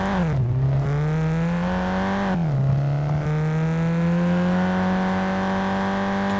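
Snowbird car in Gangstar Vegas: a steady game engine drone that dips and then climbs back in pitch twice as the car shifts and accelerates, loud and continuous with no talk.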